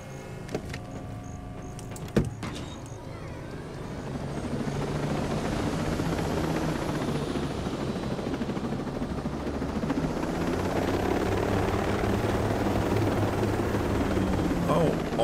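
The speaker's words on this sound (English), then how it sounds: "I was going to talk over the helicopter motor" A helicopter in the video game Ghost Recon Breakpoint whirs up, its engine building from a few clicks and a thump into a steady, loud rotor drone that holds to the end.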